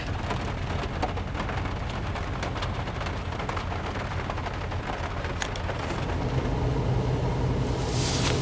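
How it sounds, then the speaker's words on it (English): Steady overnight rain drums on a camper Jeep, a dense, close, continuous patter with scattered sharper drips and a swell in intensity near the end, with no voices. "And it rained pretty much the whole night, which was very nice."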